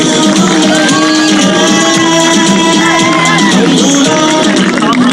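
A large crowd at a political rally for Murad Saeed and the PTI roars and applauds continuously, a dense, loud wash of cheering, clapping and shouting that fills the whole stretch without pause.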